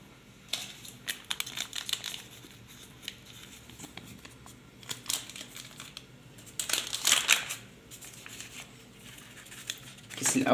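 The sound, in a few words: emptying baking powder sachets while sifting flour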